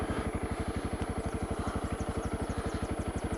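A Honda CRF250L motorcycle engine idles steadily with a fast, even putter, close and constant, with no voices.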